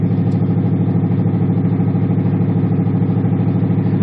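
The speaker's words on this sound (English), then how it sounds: "if you pay close attention to the actual sound of the engine, it doesn't really sound too good." A 1977 Chevrolet Monte Carlo engine idling roughly with a suspected carburetor fault, a loud steady low rumble with a faint regular pulsing throughout.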